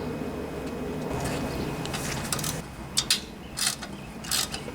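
A carburetor clamp on a 2002 Honda XR400R dirt bike is loosened, giving close mechanical ratcheting and metallic clicks, with a few sharper clicks near the end.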